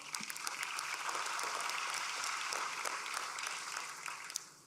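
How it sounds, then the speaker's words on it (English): Applause from delegates at a FIFA Congress, given to the referees of the Women's World Cup in Australia and New Zealand, soft and distant, a steady wash of clapping from a large hall that tapers off at the end. "Another applause for the referees"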